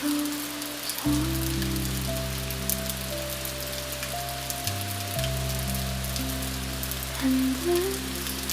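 Gentle rain falls in a constant, even hiss of drops, accompanied by soft held musical notes that shift pitch slowly; no one speaks.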